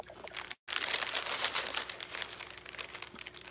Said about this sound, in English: And crackers in plastic bag.